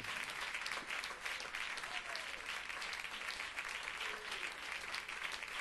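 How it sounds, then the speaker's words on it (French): A church congregation applauds in a continuous, even wave of clapping that fills the room, with faint voices underneath. "Vous vous applaudissez, mais moi je ne le faisais pas."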